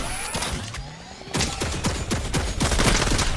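A new turret firing in Fortnite, a rapid string of loud, punchy shots in quick rhythm that starts after a brief quieter lead-in and keeps going.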